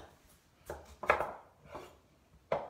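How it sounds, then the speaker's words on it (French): A knife cuts a peeled potato in half lengthwise for tortillas, giving a handful of distinct, fairly close cutting knocks on a board with short gaps between them. "on va couper la pomme de terre en 2 dans le sens de la longueur"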